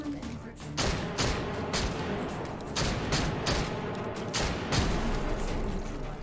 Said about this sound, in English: Super easy thanks to that shotgun